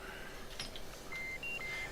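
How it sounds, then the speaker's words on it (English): Seat arming reminder beeps sound in the cockpit of a CF-188 jet in the DCS flight simulator game, a string of short, thin electronic tones repeating toward the end over a low, steady cockpit hum. "you have the reminder that tells you beep beep beep beep, arm your seat"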